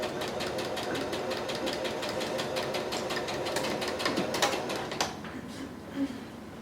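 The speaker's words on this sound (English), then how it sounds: "I'm going to sew the 3/4 inch seam allowance again" Sewing machine stitching a 3/4 inch seam on a fabric face mask: a steady, rapid mechanical clatter running close and continuously, slowing and stopping near the end.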